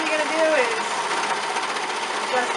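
A serger overlock machine stitches around the edge of a square cloth wipe with a steady, rapid mechanical whir close up, and a voice is faintly heard over the motor.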